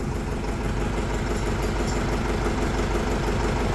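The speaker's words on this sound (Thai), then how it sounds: "อ๋อติดเครื่องแล้ว" A customised car's engine running at idle after starting, a steady close rumble with even vibration throughout and no talk.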